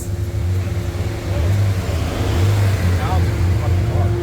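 VR6 engine revving hard on a dyno during back-to-back intake manifold testing, a loud sustained drone that climbs in pitch, with voices talking over it.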